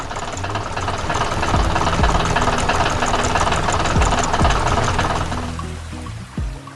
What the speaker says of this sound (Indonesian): Traktor merah berlari dengan cepat di tengah pertanian yang hidup.